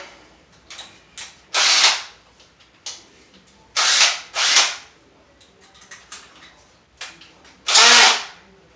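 Several loud bursts of a power drill whirring as it drives a screw into drywall, separated by short pauses and small clicks and knocks.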